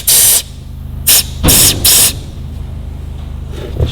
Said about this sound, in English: I'm just going to try and pop this piston out with some compressed air